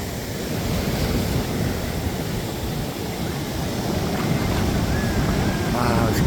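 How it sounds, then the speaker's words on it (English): Big ocean waves at a beach in the evening, a constant rough roar of surf mixed with wind buffeting the microphone, with a faint voice under it. "Monster waves."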